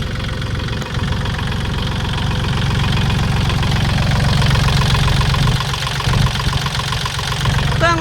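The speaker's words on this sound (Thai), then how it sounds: "เครื่องเดิมค่ะ เครื่องดีเกียร์ดีนะคะ" A used Kubota L3608 tractor with its original diesel engine idles steadily, a loud, close, even chugging rumble that continues throughout with slight knocking.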